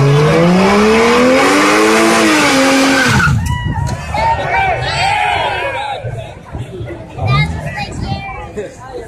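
A car does a burnout at a 2017 Columbus, Ohio meet, its engine revving hard over long screeching tire squeal that cuts off abruptly, followed by quieter revs, crowd noise and people chatting nearby.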